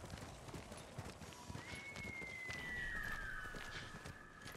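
Horse hooves gallop in a steady, rhythmic clip-clop during the Ghost of Tsushima video game, over continuous game ambience with a thin whistling tone that rises in the middle.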